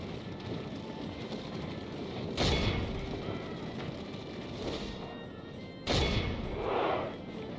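Gunfire in a video game comes as two loud, sharp booming shots several seconds apart over a constant background rumble, with no talk.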